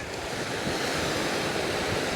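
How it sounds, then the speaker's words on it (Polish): Waves break on a shore with wind blowing over the microphone, a loud, continuous wash of surf close by with no voices. "Patrzę w wodę i te fale na brzegu odkąd sięgam."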